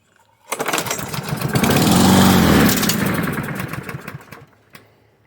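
A long-neglected Cub Cadet self-propelled lawn mower engine sputters to life on starting fluid, running loud and rough for a few seconds before dying back down, with no talk over it.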